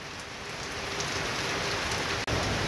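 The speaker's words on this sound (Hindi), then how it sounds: "आज हमारे घर में बहुत ज़्यादा बारिश हो रही है" Dense, continuous downpour roars evenly with no letup, loud and close, cut by a brief dropout near the end, during a rainstorm at a house in Azad Kashmir.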